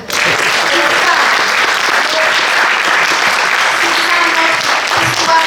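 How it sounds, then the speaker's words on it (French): Sustained applause from a conference audience at an ambassador's talk, loud and steady throughout, a dense wash of many hands clapping together with a few voices faintly mixed in. "Applaudissons-le."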